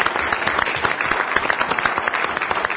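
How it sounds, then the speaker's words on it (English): Applause for children at a city council meeting, a dense, even round of many hands clapping together, sustained throughout without a break. "let's give them a round of applause"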